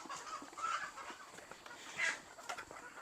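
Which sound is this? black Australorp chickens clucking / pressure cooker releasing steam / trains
black Australorp chickens clucking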